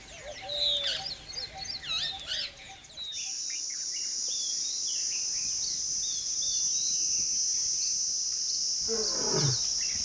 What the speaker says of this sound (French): le rugissement d'un lion peut s'entendre à plusieurs kilomètres à la ronde.